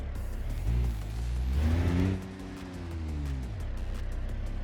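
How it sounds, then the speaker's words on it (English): A car engine in BeamNG.drive idles rough, with a low uneven rumble near the microphone, a brief swell in revs and a wavering hum as it settles, with no voices. "Car shook a little bit there, a little strange, and she's kind of idling a little bit rough"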